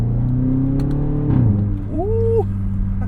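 A BMW X5 M engine revs as it is shifted manually, a loud close drone that rises, drops briefly at the shift, then climbs again.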